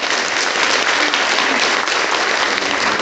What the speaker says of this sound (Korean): 환영의 박수를 드립니다.